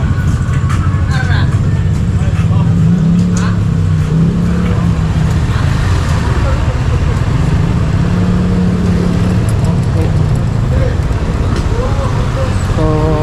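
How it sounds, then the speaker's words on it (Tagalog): Busy road traffic at about eight at night, engines humming and passing vehicles blending into a steady, dense roar with no break throughout. "traffic gihapon sa alas 8 na."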